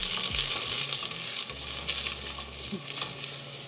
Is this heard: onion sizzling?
yes